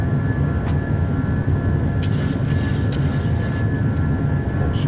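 Steady, loud roar of a simulated PMDG 737-800 jet accelerating down the runway for takeoff in Microsoft Flight Simulator, a constant engine drone with a few faint clicks and knocks on top.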